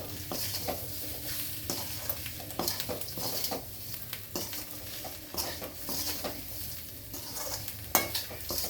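Boiled, cut baby potatoes stir-fried in a pan give a continuous sizzle, broken by repeated scraping and clinking from a spatula against the pan in an irregular rhythm, close and clear.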